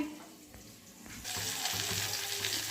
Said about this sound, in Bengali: এখন সবজিটা একটু ভাজা হচ্ছে মশলা করছি